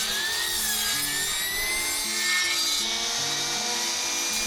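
Plastic pieces being cut to length with a saw, a close, harsh rasping sawing with high whining tones, in repeated strokes running continuously with no talk.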